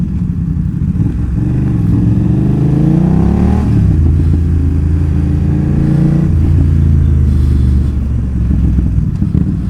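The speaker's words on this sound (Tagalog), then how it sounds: "lakas ng engine brake." BMW F900R motorcycle engine braking on downshifts, loud close engine note blipping up then winding down in stepped drops, with rumbling exhaust and wind rush throughout.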